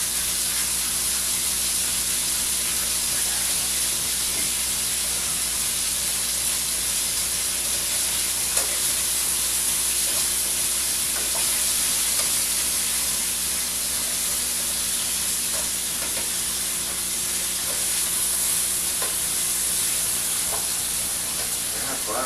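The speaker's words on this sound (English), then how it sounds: "people can hear the sizzle, sizzle, sizzle as these ribs are cooking" Steady, loud sizzling of ribs browning in a pan fills the whole stretch, a constant hissing crackle with faint occasional pops and no pauses.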